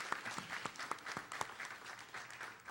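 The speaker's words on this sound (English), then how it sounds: "Ronald Hampton, warm round of applause, please." Scattered clapping from a small group, light and uneven, with a few sharper claps standing out before it thins.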